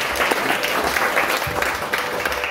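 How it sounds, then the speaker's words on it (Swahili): A church congregation claps together, a dense, lively burst of applause that holds steady for a couple of seconds, close and fairly loud. "Hayo makofi yanatosha."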